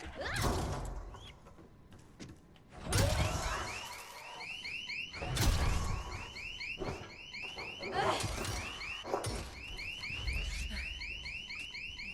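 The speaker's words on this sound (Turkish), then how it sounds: "Ne kadar alarm sesini duydu bilmiyorum." In the zombie video game Dead Island 2, a car alarm repeats rapid rising chirps in an unbroken pattern, while heavy thuds and scraping movement sounds break in every few seconds.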